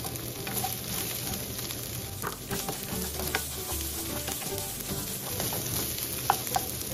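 Garlic and onion sizzle and fry in a pan for pancit miki with patola, a dense continuous crackle with occasional stirring clatter, close and steady, with no voices.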